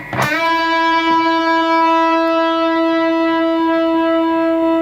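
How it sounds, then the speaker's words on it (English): Electric guitar with a distorted drive tone fed through a Carl Martin compressor/limiter pedal, a single loud struck note ringing with long, even sustain that barely fades over several seconds. "you get slightly more distortion coming out."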